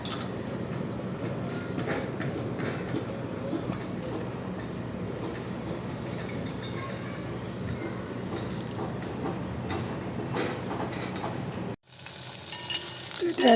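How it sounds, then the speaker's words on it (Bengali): Food fries steadily in a pan on a low gas flame while being stirred, a continuous crackling sizzle lasting about twelve seconds before it cuts off abruptly. "মোটামুটি ভাজা হচ্ছে গ্যাসটা আমি একদম কমিয়ে দিয়েছি"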